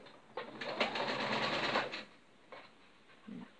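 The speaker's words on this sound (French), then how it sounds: "je fais une petite couture de maintien" Sewing machine running a short staystitch seam on a dress, one steady close burst of rapid needle stitching lasting about a second and a half, then a brief quieter whir.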